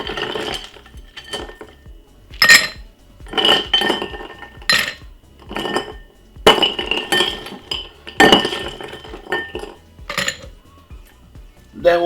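Ice cubes clink and rattle against a glass in a kitchen, sharp bright knocks coming in bursts and scattered single taps, close and loud with no talk over them.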